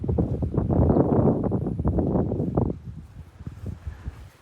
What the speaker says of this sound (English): It's a little bit windy out here today,